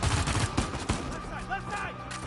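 Gunfire in the action game Uncharted 4 on crushing difficulty, a dense volley of overlapping shots with sharp cracks, loud and close, then fading into sustained battle noise.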